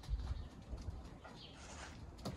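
Racing pigeons cooing softly inside a loft, low murmuring calls repeating close by with faint rustling and a wing flutter near the end.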